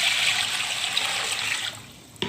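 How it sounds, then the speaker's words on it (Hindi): Water pours steadily into a pot over chicken pieces for soup, a continuous close splashing gush that cuts off near the end with a small knock. "अब हम इसके अंदर डालेंगे इतना पानी कि ये हमारा तकरीबन भीग जाए पूरी चिकन।"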